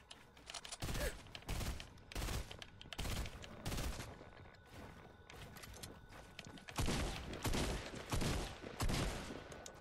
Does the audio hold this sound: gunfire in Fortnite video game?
yes